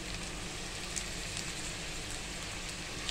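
Ginger garlic paste frying in hot oil with onions in a pan, a steady dense sizzle that holds unbroken throughout, close and fairly even in loudness.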